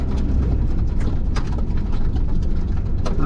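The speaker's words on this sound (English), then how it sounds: "That sound is the mud flicking off my tyres." Mud flicking off car tyres while driving on a scenic mountain road in November, heard as a steady close rumble of tyre and road noise with scattered brief patters and ticks over it, with no talking.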